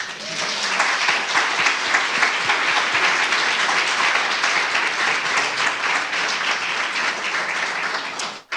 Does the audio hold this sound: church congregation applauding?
yes